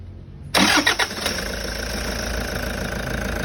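A Toyota HiAce van's 1KD diesel engine, which makes a noise when switched off, cranks and catches with a loud burst, stumbles briefly, then settles into a steady, close idle rumble.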